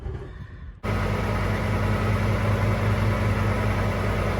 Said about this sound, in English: The reason I'm revving the RPMs is because it helps build the air pressure quicker.